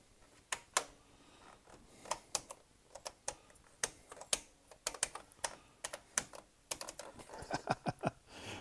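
Keys clatter on a Thomson TO8D computer keyboard that is having faults, in irregular bursts of sharp, close clicks with brief pauses and a faster flurry near the end.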